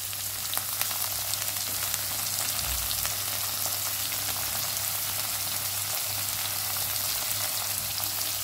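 Curry leaves frying in hot oil for godhuma rava pesarapappu khichdi, a loud, steady close-up sizzle with fine crackling throughout and a low hum beneath, no voices.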